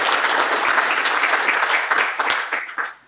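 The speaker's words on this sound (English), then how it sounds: "Okay, round of applause, and then I'll grab some questions." An audience applauds after a Python maths demo, a full burst of clapping that holds steady for a few seconds and then tapers off.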